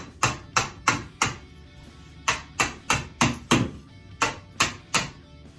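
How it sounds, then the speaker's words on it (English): Chisel strikes on old bathtub tile ring out in two bursts of sharp, evenly spaced hammer-on-chisel taps, each a crisp crack with a short tail, close and fairly loud, with a brief pause between the groups. "And then just keep chiseling away."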